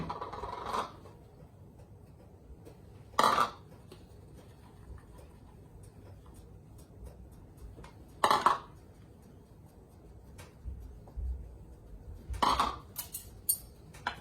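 Salad ingredients such as cilantro, avocado and salted cod are dropped into a container, making four quiet clunks and clinks spaced several seconds apart in a calm kitchen.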